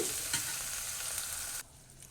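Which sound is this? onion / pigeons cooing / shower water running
onion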